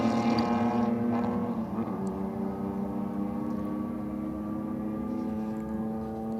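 At a no-prep drag strip, a Ford Falcon ute with a 4-litre engine lines up against a Barra-powered Falcon, engines roaring loudly at first, then settling into a sustained droning rev heard from a distance.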